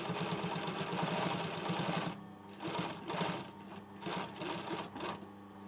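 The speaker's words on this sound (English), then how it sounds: "top stitch around this pocket, reversing of course." A sewing machine topstitches a patch pocket onto the front of a hoodie with a steady, close mechanical whir. The run stops, then continues in short bursts as the fabric is repositioned, with no voices.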